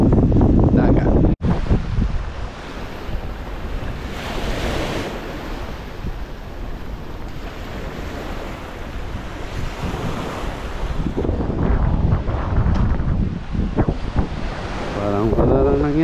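Ocean waves roll in and wash up on Figueretas beach in Ibiza, Spain, with strong wind buffeting the microphone, loud and close, surging in repeated swells, with faint voices nearby.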